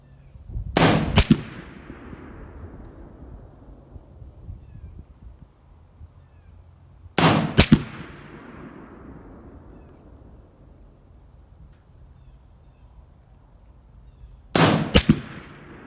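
Palmetto State Armory AK-P 7.62x39 pistol fires three sharp, loud shots spaced about seven seconds apart, each with a ringing tail that fades over several seconds into quiet outdoor background.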